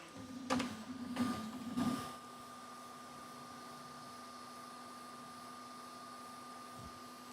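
A Sovol SV08 3D printer cleans its nozzle: three quick mechanical bursts of motor movement, then a steady low hum and fan noise that carries on alone, fairly quiet.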